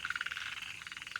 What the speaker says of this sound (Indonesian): Wah, suara kodok dari kolam.